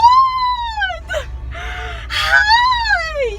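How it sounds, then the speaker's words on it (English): A tornado siren wails in long rising and falling sweeps, heard from a distance with gasps and excited voices breaking in between the tones. "There's a tornado siren!"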